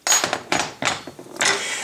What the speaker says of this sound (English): and I center punch it.